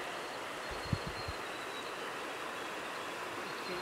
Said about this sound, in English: So we're just passing Jack Creek now, just this creek here.